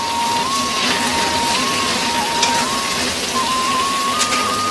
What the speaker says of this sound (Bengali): পেঁয়াজটাকে ভালো করে একটু ভেজে নেব।